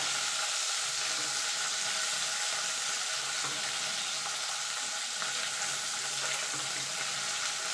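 Ginger and green chilli paste frying in a pan for a pea-filled kachori stuffing, a steady, close hissing sizzle that holds evenly throughout with faint stirring underneath and no voices.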